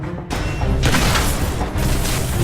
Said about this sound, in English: it actually sends a projectile under the ground, and then the player can choose when they want to detonate it